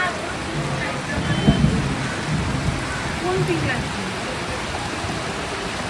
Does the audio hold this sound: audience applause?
no